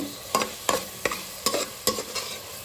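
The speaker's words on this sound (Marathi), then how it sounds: "त्यानंतर आपण ह्याच्यात आलं लसूण पेस्ट टाकणार आहोत अंदाजे। हे छान मिक्स करून घेऊ।" A spoon stirs ginger garlic paste into browned onions for green peas pulao, giving five or six evenly spaced scraping strokes over a soft sizzle.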